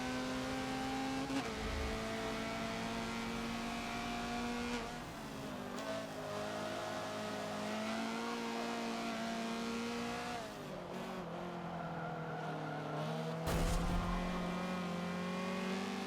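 A Honda CRX racing car engine in a racing video game, in third gear at the Nürburgring GP circuit, holds a sustained, strained whine, rising and easing as it revs, with occasional sharp bursts and thumps; no voices.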